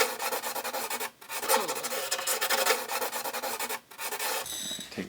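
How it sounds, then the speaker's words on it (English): A guitar saddle is scuffed with 120 grit sandpaper in short back-and-forth rubbing strokes, close and fairly quiet, with two brief pauses. "just take a little piece off, and just scuff it"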